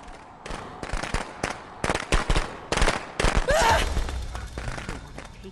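A rapid, uneven string of sharp bangs and crackles, loud and close, bursting in quick clusters like fireworks going off in Friday the 13th: The Game.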